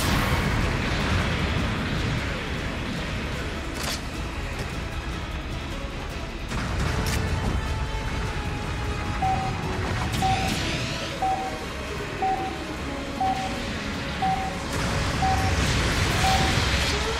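Long-range artillery support fire in the video game Gundam Battle Operation 2: repeated heavy booms and bursts over a dense battle din, with beeping alert tones recurring in a steady run through the latter half.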